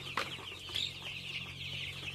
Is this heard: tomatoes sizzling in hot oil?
no